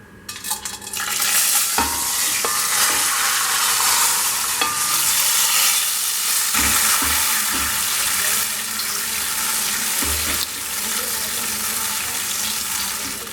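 Strained tamarind extract poured into a hot tempering of spices in a pan, bursting into a loud, sustained sizzle with occasional spoon or pan clinks, close up throughout.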